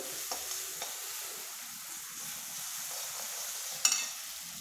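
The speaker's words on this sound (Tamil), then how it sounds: "பாருங்கள் வெங்காயம் வதங்கிடுச்சு" Onions sauté in a pan for a roadside-style salna, with a quiet, even sizzle and a sharp tap or clink near the end.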